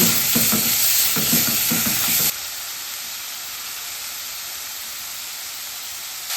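Minced pork stir-fried dry in a pan, loud sizzling with rhythmic scraping strokes at first, then settling into a quieter steady hiss as the stirring stops.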